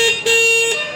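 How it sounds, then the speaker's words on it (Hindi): The horn of a Komaki Venice electric scooter honks twice in a second: a loud, bright, steady electronic tone, briefly broken and then resumed, heard up close. "अब आपको मैं इसका हॉर्न भी सुनाता हूँ।"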